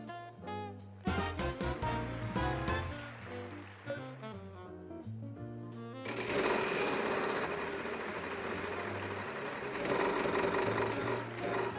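A prize wheel spins in a wheel game show video game, its rapid clicks slowing into spaced ticks over the first six seconds before a loud burst of game sound and music takes over.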